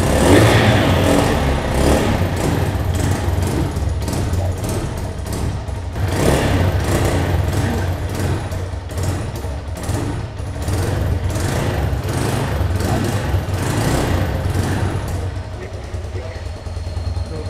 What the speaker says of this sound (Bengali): আমরা এবার কিন্তু বাইকটার সাউন্ডটা শোনাচ্ছি। তো দেখতে পাচ্ছেন এর এক্সোস্টের ডিজাইনটা, এটা সিম্পল এক্সোস্ট ইউজ করা হয়েছে